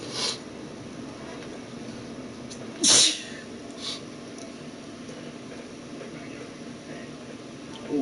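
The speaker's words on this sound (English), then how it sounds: "I can't stop sneezing, yo." A brief sneeze from someone with pollen allergies, one sharp burst rising above steady background noise, followed by a couple of faint short sounds.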